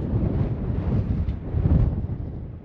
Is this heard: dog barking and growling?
no